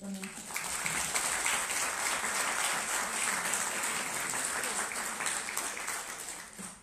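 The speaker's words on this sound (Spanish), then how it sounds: "por favor un aplauso a nuestra siguiente ponente" Applause from a conference audience for the next panel speaker at a Mexican tax law session, a steady wash of many hands clapping that swells quickly and holds evenly before tapering off.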